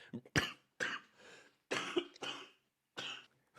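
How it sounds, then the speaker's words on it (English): Several short, dry coughs come in separate bursts with brief pauses between, close and fairly quiet, with no speech. "coughing in the middle of sentences"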